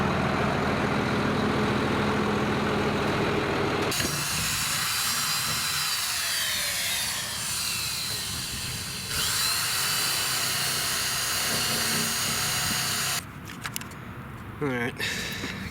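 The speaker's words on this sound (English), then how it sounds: "I got it clamped down so I can drill all these holes out just right" A power drill boring holes through a clamped-down Cherokee boat, a loud, continuous grinding whine that shifts in pitch as the bit cuts, with brief breaks and scraping near the end.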